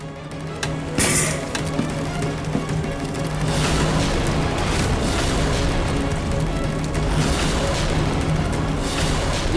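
An air conditioner unit in a home bedroom malfunctions with a sudden bang near the start, followed by a loud, dense, continuous rumbling roar that keeps going throughout.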